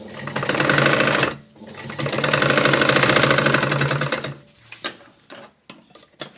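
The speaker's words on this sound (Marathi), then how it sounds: "थोडंसं मी इथं शिवून दाखवते साडेचार इंचापर्यंत इथं मी बाही शिवून घेतलेली आहे" A sewing machine stitches a blouse sleeve in two loud, close, steady whirring runs with a short pause between, then stops, followed by a few soft clicks and handling sounds.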